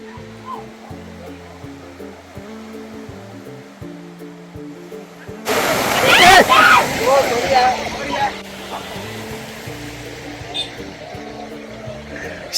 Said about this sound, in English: Somebody jumped and sprayed water over Sunil and our car.